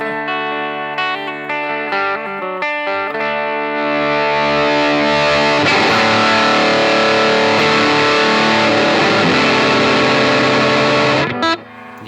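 An electric guitar through an MXR Il Diavolo overdrive pedal plays clean picked notes that swell into a thick, distorted, overdriven wash, sustaining loudly before cutting off abruptly.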